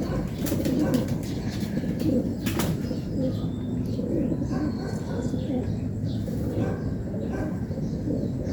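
Racing pigeons coo in a loft amid a dense, steady rustle of wings and movement, with a faint murmur of voices underneath.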